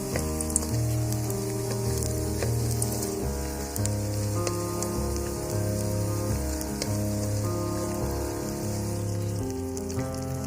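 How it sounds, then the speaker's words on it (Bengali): Puffed rice fritters frying in hot oil, a dense continuous crackle and bubbling like rain on a surface, steady and close throughout, while a tonal background sound plays underneath. "আর একটু লালচে করে বড়াটা ভাজতে হবে"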